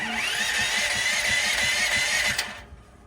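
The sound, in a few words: portable generator engine being started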